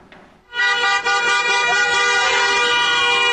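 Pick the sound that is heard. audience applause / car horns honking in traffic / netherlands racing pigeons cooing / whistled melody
car horns honking in traffic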